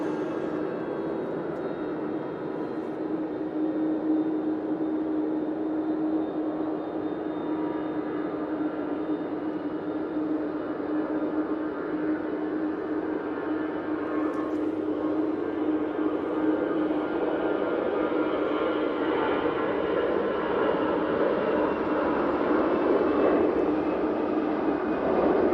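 EasyJet airliner taking off from runway 05 left at Manchester Airport, a steady broad jet-engine roar that holds loud and constant throughout, with a sustained low hum and no voices.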